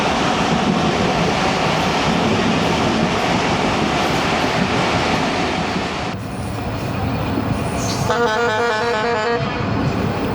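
Allama Iqbal Express passenger train rolling on rails near Okara, a steady loud rumble of wheels and carriages throughout, with a sharper metallic squeal and rhythmic clatter rising near the end.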